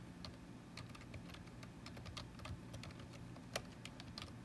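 Someone types on a computer keyboard, with quick, uneven key clicks close up over a quiet low hum and no talk.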